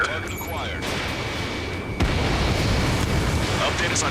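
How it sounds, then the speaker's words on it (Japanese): Explosions of destroyed enemy aircraft in the combat flight game Ace Combat 7: Skies Unknown, a roaring blast that swells abruptly midway into a sustained rumbling boom over jet engine noise. "さっきからね、敵倒すと爆発がでかい。"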